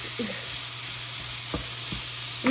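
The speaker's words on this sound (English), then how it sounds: "I really brown up my ground pork" Ground pork browning in a pan, a steady close hiss of frying with faint scraping and stirring knocks, no talking.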